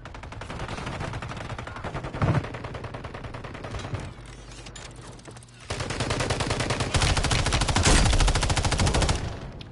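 Rapid gunfire from jump shots in a shooter video game, dense bursts of shots running almost without pause, loud and close, with a sharp spike partway through and a heavier barrage near the end.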